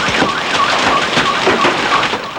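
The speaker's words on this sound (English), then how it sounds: "Hail pelted the ground and struck cars, some powerful enough to set off alarms." Hailstorm in the Miami area pelting the ground and cars, a dense crackling patter under a repeating electronic car-alarm tone that pulses about twice a second, loud and continuous with no talking.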